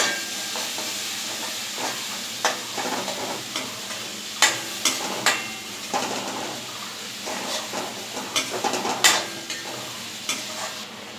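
Spice masala frying and stirring in oil in a pan for Bangladeshi egg bhuna, a steady close sizzle broken by repeated louder scrapes and stirring clatters, with no voices.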